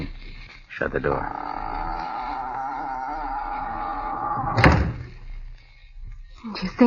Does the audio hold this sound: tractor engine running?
no